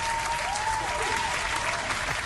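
A burst of applause plays as a sound effect in the Dune Imperium Digital board game, a dense, steady clapping crowd with a faint tone trailing underneath.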